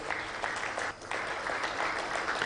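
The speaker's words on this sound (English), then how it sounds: "Can you all recognize them with a round of applause?" An audience at an international investment meeting in Tanzania applauds steadily, dense clapping from a large crowd that dips briefly midway then continues at even strength with no speech.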